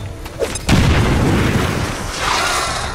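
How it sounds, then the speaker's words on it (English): A quick explosion in the video game XCOM 2 bursts into a loud boom after a brief lead-in, followed by a sustained rumbling, crackling tail that stays strong to the end. "That was one of those quick explosions."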